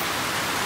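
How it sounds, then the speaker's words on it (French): Rain falls in a steady, dense hiss, a brief continuous wash of sound with no voices. "profiter de la couverture sonore de la pluie"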